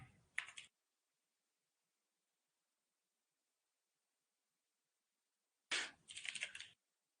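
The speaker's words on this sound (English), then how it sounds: "Typing is hard." Computer keyboard typing in two short bursts, one at the start and one near the end, separated by a long silence; brief, close, clicky keystrokes.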